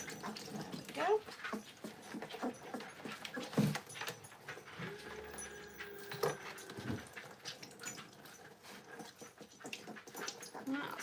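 Puppies fresh from their first bath whimper and pant softly nearby, with small whines and rustling and a faint splash of water, while someone talks gently over them.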